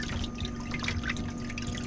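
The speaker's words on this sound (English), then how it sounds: "I hear running water. Yeah. And we have water. Glad it's just a trickle." Water trickles into a sailboat's hull through a loosened prop shaft seal, a soft continuous dribbling and splashing close by under a steady engine-like hum.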